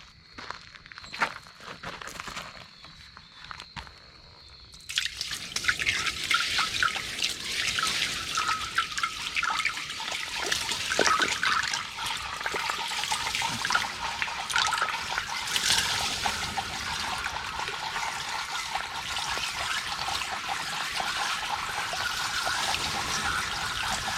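After a few quiet drips and small knocks, water poured down a newly drilled well starts pouring steadily with a hollow, echoing rush that continues without pause.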